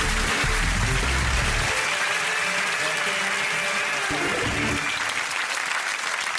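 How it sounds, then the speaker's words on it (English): A studio audience at a comedy quiz show claps for a mystery guest, loud sustained applause with a low rumble and some voices mixed in at the start. "Round of applause, please,"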